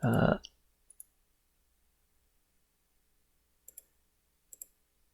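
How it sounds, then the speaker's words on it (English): A computer mouse double-clicks to open Visual Studio Code: two quick pairs of faint, close clicks in a quiet room, following a brief burst of sound at the start. "double-clicking Visual Studio Code"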